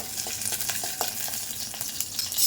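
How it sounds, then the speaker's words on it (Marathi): Garlic and cumin sizzle in a pan with chili while being stirred for a Maharashtrian snake-gourd chutney, soft frying crackle under scattered scrapes and taps of a spoon against the pan. "टाकूया लसूण मग ॲड करूया जिरा त्याला मिक्स करून घेऊया"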